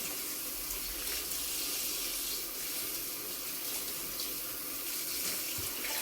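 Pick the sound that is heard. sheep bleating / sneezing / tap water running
tap water running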